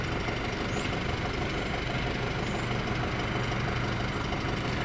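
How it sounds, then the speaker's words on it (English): A 2006 Audi A4 with a 2.0-liter turbo engine running steadily, a constant dense mechanical drone with no breaks or revving, close and moderately loud, without any talking. "But this is my 2006 Audi A4, 2-liter turbo."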